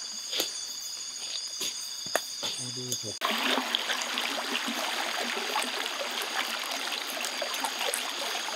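A forest river in Hutan Harapan flows steadily after a sudden onset, its broadband rush continuing under nighttime insect and cricket chirps, with brief voices early on.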